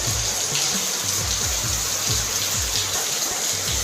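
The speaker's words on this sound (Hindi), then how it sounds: "अभी बजा थे 4:15 और पानी एकदम जोर से गिरा थे।" Heavy rain pours down at a village home in Chhattisgarh, a dense, loud, unbroken hiss of falling water with faint dripping patter beneath and no voices.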